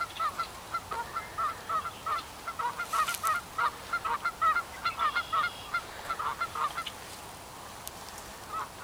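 Geese keep up a rhythmic series of honks at a fishing spot, a steady run of repeated calls at moderate distance over faint outdoor background noise, with no talking.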